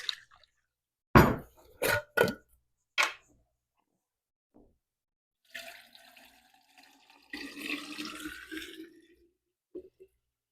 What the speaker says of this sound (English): I'm just going to kind of give this a shake before I pour it over the eggs